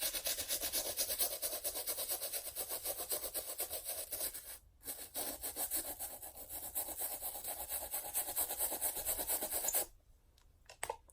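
A brush scrubs a shoe in rapid, steady back-and-forth strokes, close and fairly loud, with a short break midway and the scrubbing dropping off near the end.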